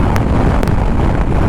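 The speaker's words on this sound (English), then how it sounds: "Very, very windy." Strong wind buffets the microphone with a constant, heavy low roar and a few brief crackles, recorded outdoors on a Scottish NC500 road on a cloudy day.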